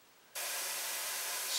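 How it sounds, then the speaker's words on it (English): An airbrush sprays paint onto paper, starting abruptly after a brief quiet moment and continuing as a steady, close, bright hiss with no talking. "get the airbrush"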